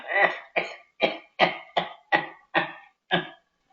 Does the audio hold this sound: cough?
yes